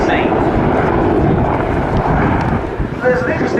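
An attack helicopter flies past at an air show, a broad steady rotor and engine roar, loud and sustained, with wind noise on the microphone and a commentator talking over it.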